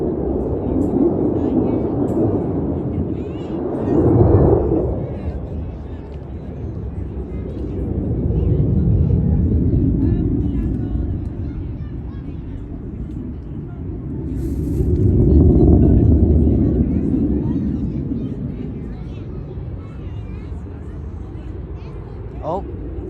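A USMC F-35B jet flying at the MCAS Miramar airshow makes a distant roar that swells and fades twice, heard under people talking nearby.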